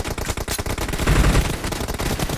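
Loud, rapid automatic gunfire in BGMI / PUBG Mobile team deathmatch, a close, continuous stream of sharp shots with a heavier thumping burst midway, nearly alone with little speech.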